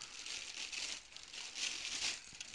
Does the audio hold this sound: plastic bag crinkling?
yes